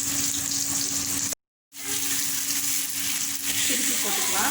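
Fish pieces frying in oil, a steady close crackling sizzle that drops out for a moment and then resumes, with a faint low hum underneath.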